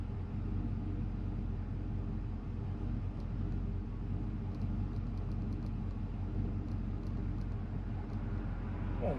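Carbureted car engine running rich while driving downhill, a steady low rumble from inside the cabin with a constant droning hum and no talk.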